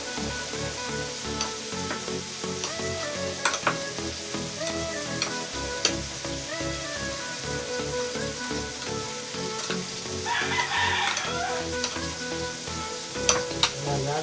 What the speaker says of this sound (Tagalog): Habang hinala natin itong ating tokwa at yung ating tause o black beans.